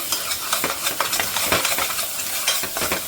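Pav bhaji masala being stirred and fried in a pan, with a spoon scraping in repeated rhythmic strokes over a steady close sizzle.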